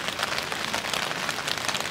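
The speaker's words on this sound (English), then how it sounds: "it's raining quite a bit right now" Heavy rain pours down at a creekside backpacking campsite in a dense, continuous hiss of drops hitting a surface, close and steady throughout.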